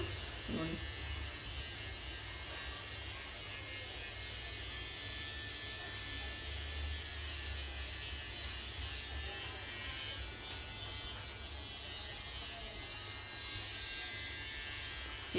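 Small electric facial hair remover running against the face, a steady faint buzzing drone held evenly throughout, with no pauses or talk.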